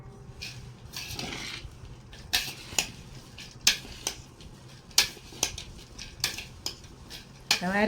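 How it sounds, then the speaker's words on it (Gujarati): Chopped jaggery is stirred into cut raw mango pieces for pickle, making a series of close, moist clattering scrapes against a metal vessel that come in irregular bursts. "હવે આ રીતના આપણે ગોળ ને કેરી મિક્સ કરી દઈએ"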